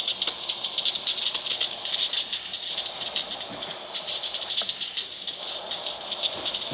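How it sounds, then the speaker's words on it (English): A steady, continuous hiss of steam jetting from a DeLonghi Magnifica S espresso machine's steam wand, loud and close, with no talking. "there's a nice steady steam coming out through the one"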